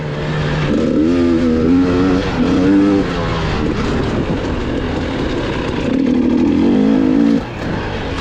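An enduro motorcycle rides a forest dirt track on the Palivere Kickstart course, its engine loud and close the whole time, pitch rising and falling with throttle changes as it weaves through turns.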